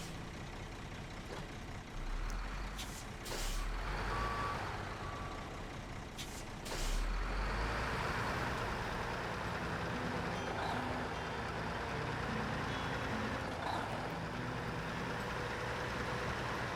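A truck in the SnowRunner video game reverses into a cramped warehouse area. Steady engine rumble runs under repeated reversing beeps, with sharp air-brake hisses bursting in twice early on.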